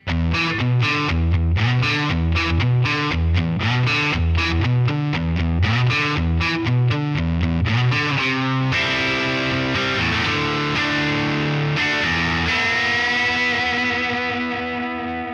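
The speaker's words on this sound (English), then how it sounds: "the last setting I really need is a high gain distortion, something a little heavier" Heavily distorted electric guitar played without an amp plays chugging riffs with a dense, saturated high-gain tone, then rings out into sustained distorted chords.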